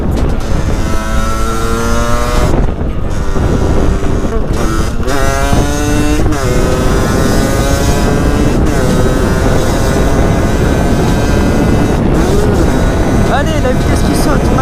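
A motorcycle engine revving hard while riding, pitch climbing and dropping repeatedly as the gears shift, loud and close with wind rush and a voice talking over parts of it.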